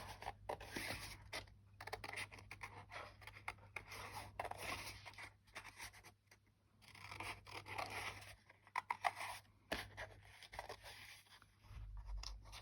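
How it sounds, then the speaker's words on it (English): Scissors snip and slice steadily through junk mail envelope paper in a craft project, a close, quiet run of crisp cuts and rustling scrapes with brief pauses, and no voices. "I'm just going to cut right up to the line"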